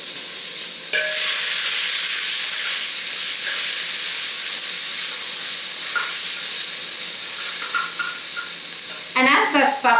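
Coconut oil heating in a pan gives a steady, close sizzling hiss throughout, with a few light clinks and a louder crackle burst at the very end.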